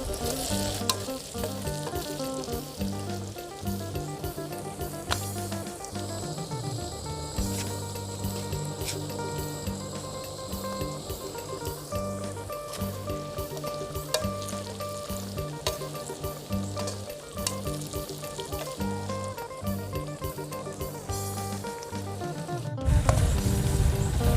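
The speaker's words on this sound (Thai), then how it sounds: "ทอดใบเตยกับหนอนไหมให้สุกไปด้วยกันนะคะ" Silkworm pupae and pandan leaves fry together in hot oil, a dense continuous sizzle with crackles and occasional stirring clinks that holds steady at moderate loudness before swelling briefly at the end, with no talking.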